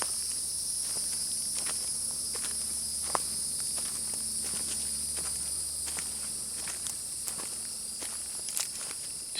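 Crickets chirp in the woods during a hike, a constant high-pitched trill layered with intermittent crunching footsteps on the trail.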